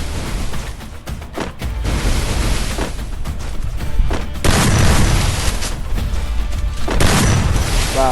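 Gunfire in the mobile shooter Free Fire during a one-on-one match: dense bursts of loud shots and booms fill the clip, with heavier volleys in the later half and little pause between them.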